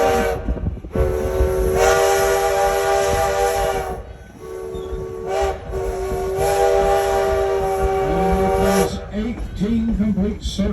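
A Virginia & Truckee Railroad steam train on a mountain line sounds its steam whistle in long, loud blasts with rumbling running noise beneath, while someone narrates over it.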